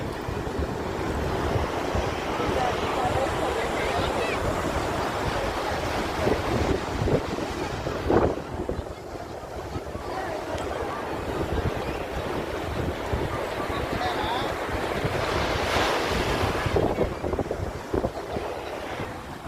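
Ocean surf at Bheemili beach rolls in continuously under strong, buffeting wind that roars across the microphone, with swells in loudness as waves break and no speech.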